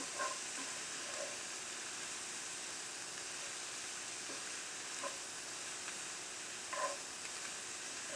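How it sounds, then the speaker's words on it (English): Minced mushrooms and vegetables sauté in a skillet as the filling for a Philly cheesesteak, giving a steady, faint frying hiss with a few soft stirring taps, no talking. "you're just going to stick everything in and saute it for about 10 minutes or until your veggies are"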